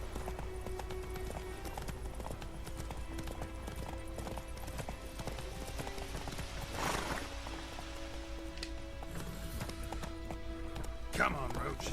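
In The Witcher 3 video game a horse gallops in a steady clip-clop rhythm over a continuous ambient rumble, with a voice talking over it and a brief rustling burst near the end.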